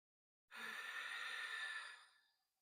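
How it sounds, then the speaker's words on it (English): Ujjayi breathing: one long, controlled, audible breath drawn through the nose, a soft breathy rush that starts abruptly, holds steady, then fades out, close and alone with no talk. "this controlled breath, where we inhale through the nose and exhale through the nose"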